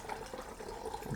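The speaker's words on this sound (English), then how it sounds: "Funnel on top, and then pour the chemical" Developing chemical pours through a funnel into a film developing tank, a brief close trickle and gurgle of liquid without any voice.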